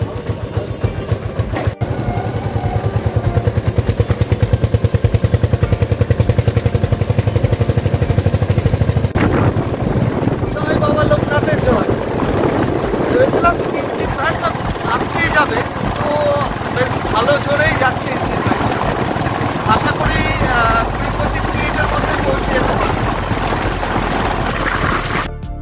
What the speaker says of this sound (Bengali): এখন আমরা ইঞ্জিন ভ্যান করে বদল অবধি যাবো